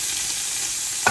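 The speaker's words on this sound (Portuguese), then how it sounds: "Nós vamos agora fritar o bacon." Bacon frying in a pot for an Afro-Brazilian dish, a steady dense sizzle close up and fairly loud, with a brief stir or clatter right at the end and no talking.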